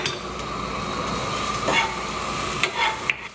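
Onion and garlic sizzle in a little olive oil in a pan, a steady close crackling hiss that runs throughout, with a few brief clinks of a utensil near the end and no talking.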